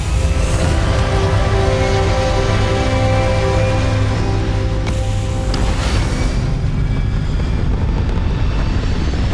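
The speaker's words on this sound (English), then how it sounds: "All thrusters firing." Spaceship thrusters firing in the game Starfield: a loud, continuous roaring rumble with steady droning tones. It holds evenly throughout and then thins slightly toward the end.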